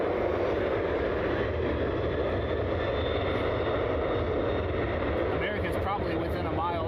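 A Southwest airliner takes off at Cleveland Hopkins airport, its engine roar steady and loud and continuous throughout, with a faint voice briefly over it near the end.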